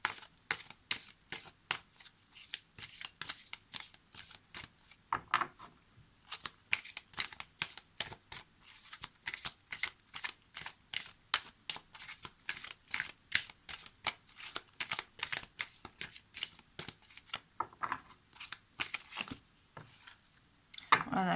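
Tarot cards shuffled and dealt in a run of quick crisp riffles and flicks, close and fairly soft, with a few brief pauses and a short burst of talk partway through.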